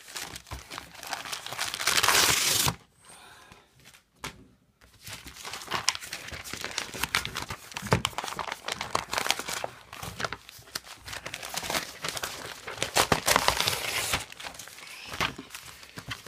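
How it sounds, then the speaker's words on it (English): A paper notebook is crumpled by hand in long bursts of loud, close crinkling and crackling, with a brief quiet pause early on before the rough rustling picks up again and carries on steadily. "just crumple it up"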